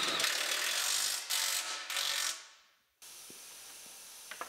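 A ratchet works on the bolts of a rear skid plate on a 2019 GMC Sierra Denali HD, giving bursts of close, hissy clicking that fade to a brief silence before faint ticks resume.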